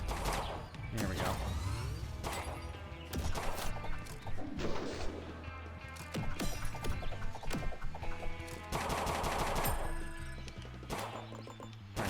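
Shotgun blasts in a shooter video game, several sharp loud cracks at irregular intervals over a dense mix of in-game effects and music.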